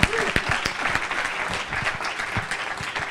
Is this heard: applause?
yes